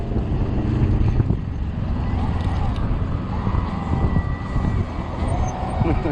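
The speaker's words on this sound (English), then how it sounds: "Oh, directly into the wind." Strong wind from 30 mph gusts buffets the microphone of a 20-inch 48V Ecotric fat-tire e-bike riding directly into the wind, a loud, continuous low roar with rumbling surges across the whole stretch and no talking.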